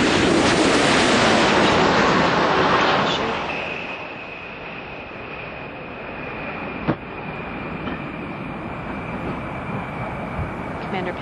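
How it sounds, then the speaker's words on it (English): Space Shuttle Discovery rolling out on runway 33 at Kennedy Space Center after landing, a loud broad roar fading into a steady rumble and a sustained whine, with one sharp thump midway. "Discovery is rolling out on runway 33 at the Kennedy Space Center"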